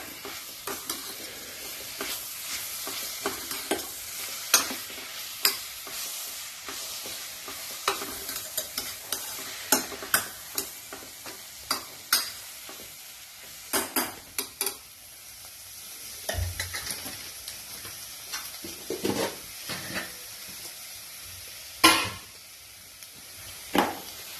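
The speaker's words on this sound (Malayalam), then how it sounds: "അതിലേക്ക് അരിഞ്ഞു വെച്ചിരിക്കുന്ന തക്കാളിയും പച്ചമുളകും ഇട്ട് കൊടുക്കാം. നന്നായി യോജിപ്പിക്കാം." A spoon stirs chopped tomatoes and green chillies in a pan for chicken curry, with a soft, constant sizzle beneath repeated scraping and clattering strokes that come in irregular bursts.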